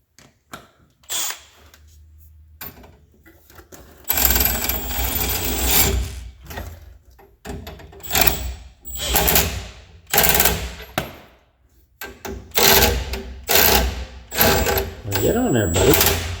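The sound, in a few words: power tools spinning fasteners on a car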